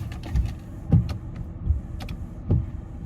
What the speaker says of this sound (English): I'm turning on my windshield wipers